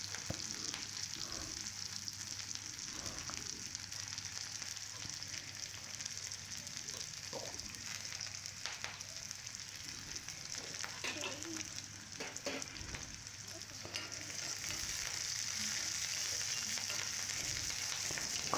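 Small onions and green chillies sauté in oil in a pan, a soft continuous sizzle and crackle with occasional stirring scrapes, quiet and close throughout.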